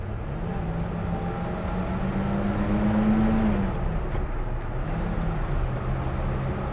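A 1968 Ford Bronco with four-wheel drum brakes drives along while it downshifts, and its engine note drops then swells as the revs change. The steady drone of road noise and engine sits under it, heard from inside the cab, with no talk.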